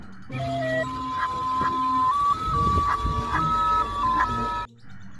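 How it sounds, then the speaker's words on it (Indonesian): A toy ice cream truck plays a steady electronic jingle melody, close and clear, running for several seconds before cutting off abruptly. "Ya, kalau yang ini mobil es krim."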